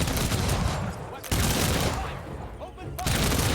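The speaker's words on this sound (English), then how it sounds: "Let's shoot that guy." Units in the strategy game Humankind trade heavy volleys of gunfire, loud rattling fusillades broken by a brief lull and a short quieter gap before the shooting resumes.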